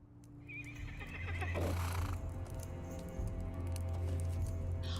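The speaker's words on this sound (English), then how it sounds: "Is that the Icy Expedition steed?" The Icy Expedition steed, a horse mount in a video game, gives a loud drawn-out neigh, with hoof clip-clop and game ambience around it.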